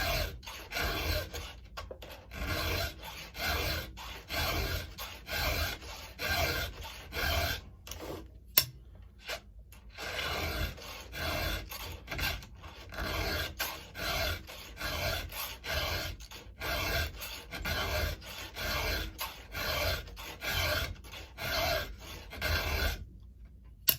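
Hand file sharpening a chainsaw chain, steady rhythmic rasping strokes repeated in even bursts close to the mic, with brief pauses between sets and no talk.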